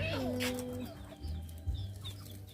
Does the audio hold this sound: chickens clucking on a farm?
yes